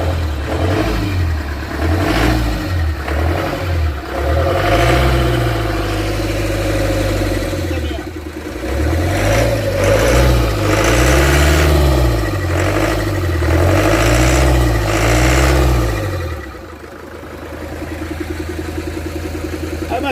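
A platform tow truck engine runs with its intercooler removed, a deep, close diesel rumble that rises and falls in repeated revving cycles, then settles near the end as someone talks briefly.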